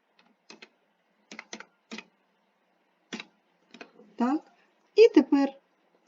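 Computer keyboard in use while editing a photo: scattered soft key clicks in small clusters across several seconds, with a voice speaking briefly near the end.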